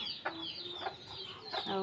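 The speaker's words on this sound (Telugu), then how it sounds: "కోడి పిల్లలు అయితే రెండు మూడు పిల్లలు పిల్ల తల్లులు ఉన్నాయట" Soft, short clucks from a hen repeat a few times at a moderate distance, with faint high peeping from her small chicks in the background.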